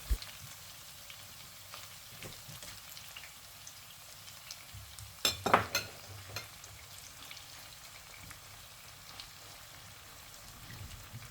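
Meat and chopped tomatoes frying in a pan, a faint steady crackle with a brief burst of louder spitting and clatter in the middle, then quieter sizzling.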